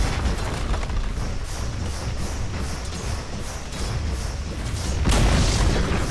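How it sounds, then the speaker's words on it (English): Dota 2 tower crumbling under attack, a sustained loud rumbling boom with rhythmic pulsing impacts, swelling into a heavier final crash near the end, with no talking. "Dire's middle tower has fallen"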